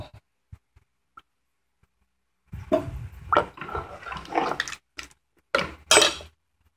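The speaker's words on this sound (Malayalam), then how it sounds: "ഈ പരുവത്തിൽ വെള്ളം ഒഴിച്ചാൽ മതി" Water is poured into a cooking pot for sambar, starting after a quiet pause and running in several loud, close splashing surges with brief gaps between them.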